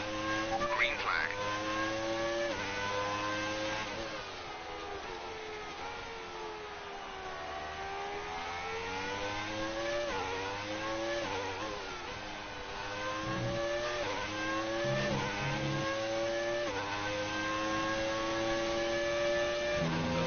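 Formula 1 cars in the F1 2019 racing game scream and rev through the gears, a long high-pitched engine whine rising and falling with each shift, while a voice comments over it.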